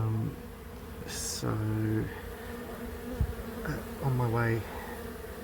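Bees buzz steadily around a slab hive box before almond pollination, a close, continuous insect hum with someone speaking briefly over it.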